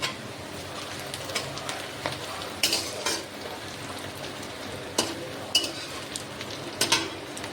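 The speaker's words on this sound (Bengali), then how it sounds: "খুন্তি দিয়ে নাড়িয়ে দিলাম পেঁয়াজটা লাল লাল করে ভেছি" Onions fried in a pan for a duck curry, stirred with a spatula, produce a continuous close sizzle broken by irregular metallic scrapes and taps, with no voices.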